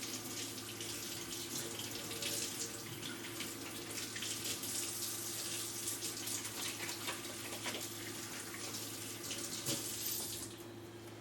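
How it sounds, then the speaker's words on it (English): Hands rinsed under a running tap, heard as a steady, close rush of flowing water with soft splashing that runs throughout and eases slightly at the end, with no talking. "let me rinse my hands real quick"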